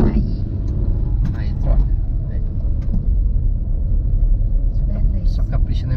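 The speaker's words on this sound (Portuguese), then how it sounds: "faz o motor gritar um pouquinho, acelera" A car engine revs and rumbles steadily up close during a driving lesson in the rain, with an instructor talking over the continuous low drone.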